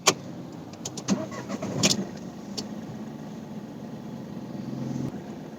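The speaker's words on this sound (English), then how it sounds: "First, let's start the engine to judge the NVH." A Mahindra Bolero Neo's three-cylinder diesel engine cranks and catches with a sharp burst, then settles into a quiet, steady idle with a few clicks and thumps around it.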